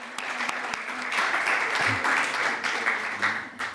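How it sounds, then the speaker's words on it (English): Conference audience applauding panelists at a green finance event, a steady, moderately loud patter of many hands that swells slightly mid-way and tapers near the end. "I would like, please, some applause for the panelists as well before we start"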